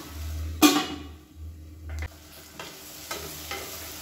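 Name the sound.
sautéing tomato masala in a pan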